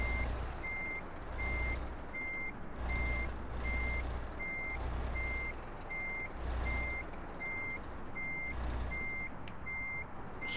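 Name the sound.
truck reversing beeps in Euro Truck Simulator 2 video game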